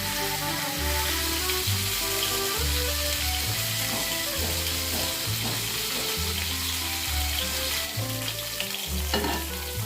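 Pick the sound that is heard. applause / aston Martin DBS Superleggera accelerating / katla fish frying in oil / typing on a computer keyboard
katla fish frying in oil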